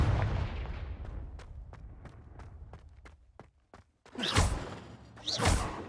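A Confringo fire spell goes off in the Hogwarts Legacy game, two loud whooshing blasts near the end that follow a run of sharp, evenly spaced thuds, with no voices over them.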